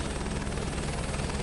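Simulated helicopter in Microsoft Flight Simulator 2024, a steady dense rotor and engine roar held at an even level for a short stretch, no voices.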